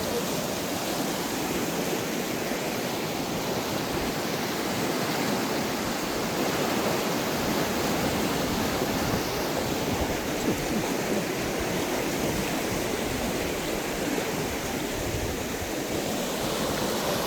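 Floodwaters of the swollen Pambak River rush past in Lori, a dense, continuous roar of churning water close by, steady and loud throughout with no voices.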